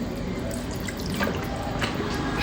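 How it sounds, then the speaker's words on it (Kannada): A little water poured into Andhra-style chilli chicken in a pan at home, a steady close trickle and splash running continuously without pause. "ಒಂದು ಸ್ವಲ್ಪ ನೀರು ಹಾಕಿ"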